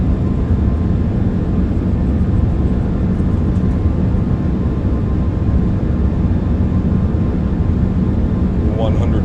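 The iniBuilds A340-300 in MSFS2024 spools its engines to takeoff power on a Frankfurt departure, a loud, steady low roar that fills the clip, with a voice speaking over it.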